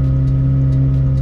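A McLaren 720S/765LT engine idles steadily at 2000 RPM to warm its oil, a loud, close, even drone with a strong low hum and no variation.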